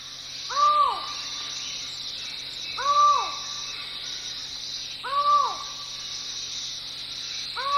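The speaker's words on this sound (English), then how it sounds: "A collared forest falcon calls from deep within the forest." A collared forest falcon calls from deep in the Belize jungle, three evenly spaced, clear descending hoot-like notes roughly every two seconds, moderately distant over a steady bed of insect drone.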